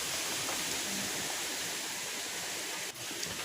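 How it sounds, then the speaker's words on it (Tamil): Tap water pours steadily into a cooking pot with rock salt for an egg kurma gravy, a continuous rushing splash that is fairly close and runs alone without talk. "பாத்திரத்தில் தண்ணி ஊற்றி கொஞ்சம் உப்புக்கல் போட்டுக்கிறேன்"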